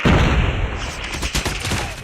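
A deep booming explosion with a heavy low rumble, followed by scattered gunfire and crackling echoes in a game battle.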